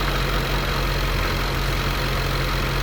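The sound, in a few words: 2015 Jaguar F-Type supercharged engine running after hydrolock repair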